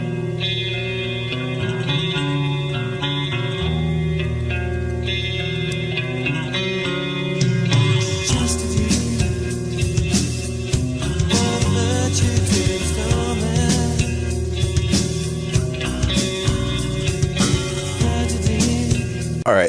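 An early 1994 demo recording with vocals: a dense, reverberant band mix starts with a sparser, steadier section, then swells after several seconds into a fuller, busier, pounding passage that continues to the end.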